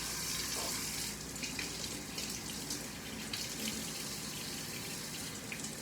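Vegetables for a beef stir fry being rinsed under a running kitchen tap, a steady close splashing rush of water into the sink lasting throughout.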